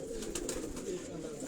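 Pigeons kept at a home cooing softly, a faint low murmur of coos against quiet background noise over a brief moment.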